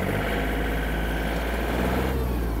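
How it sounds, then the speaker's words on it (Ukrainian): A Yanmar RS-27 mini tractor diesel engine runs loud and close, its steady rumbling note rising as the revs are increased, with no voices over it. "Можу навіть додати обертів."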